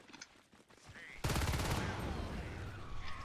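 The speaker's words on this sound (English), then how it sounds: "Heracles cleans up with his pistol." Gunfire in the Natural Selection 2 video game, a sudden loud burst of rapid shots cutting in after a quieter stretch of game sounds and holding as a dense sustained crackle to the end.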